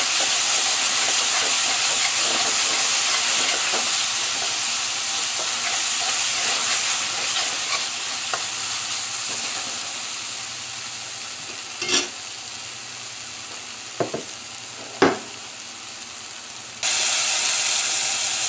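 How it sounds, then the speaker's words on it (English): Curry paste for a Guyanese prawn curry sizzles and fries steadily in a pan with little liquid, a continuous close hiss broken by a few sharp stirring clicks and knocks. "our curry paste is going to cook for about 4 to 5 minutes here"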